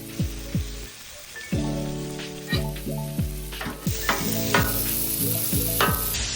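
Argentine red shrimp sizzle on a Blackstone flat top griddle in a steady, close crackle, broken by repeated scraping and stirring strokes, fairly loud with no talking.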